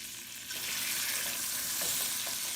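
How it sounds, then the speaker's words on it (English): Steady, crackling sizzle of beef liver frying in a hot pan, with a few soft stirring clinks; close and continuous, no talking. "now I'm frying them for a quick 5 minutes"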